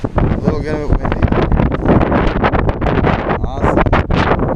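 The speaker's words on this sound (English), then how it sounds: "A little bit windy." Strong wind buffets the microphone on a hilltop during an off-road Can-Am outing, a steady loud rumbling roar throughout with people talking over it.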